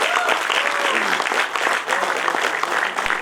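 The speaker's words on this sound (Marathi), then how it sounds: "मला वाटतं टाळ्या याच्यावर वाढत जातील" An audience at an inauguration function claps for the chief guest as she is welcomed onto the dais, a dense, steady applause that stays full throughout while a voice carries faintly over it.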